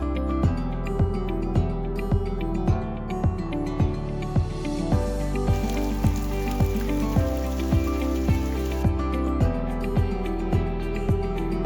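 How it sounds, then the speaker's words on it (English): Rain falls onto large puddles across a town square in Yulara, a steady close patter with regular louder drips, under a bed of faint background music. "It seemed like the rain had followed us to Yulara"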